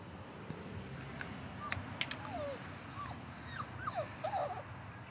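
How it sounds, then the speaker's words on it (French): Huskies whimper and yip in a series of short, rising and falling whines, moderately close and fairly faint, scattered over a steady low background hum with no talking. "C'est des huskies."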